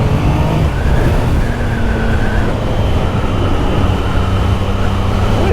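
A Triumph Sprint GT motorcycle accelerates hard, its engine note rising steadily and loud amid constant wind and road roar from the rider's position, with no talk.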